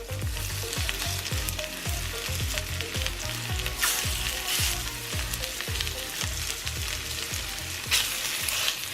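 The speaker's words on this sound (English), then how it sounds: "You want to dust your pork loin with some flour and sear the meat on both sides." Flour-dusted pork loin searing in a hot pan, a steady loud sizzle with crackling pops and repeated scraping stirs, with no talk.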